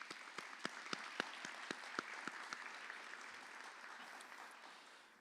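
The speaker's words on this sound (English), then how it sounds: "Join me in a round of applause welcoming them." Sparse, quiet applause at a Baltimore County Police Department community academy graduation welcoming bureau majors: a few distinct loud claps stand out at first over a faint patter, fading out after a few seconds.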